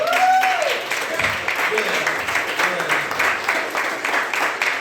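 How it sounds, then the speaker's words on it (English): Audience applause at a live comedy show at The Rec Room, steady dense clapping throughout with a voice speaking over the start. "Give them a good round of applause."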